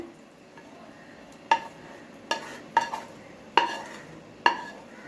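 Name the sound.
stirring handvo batter with spinach and fenugreek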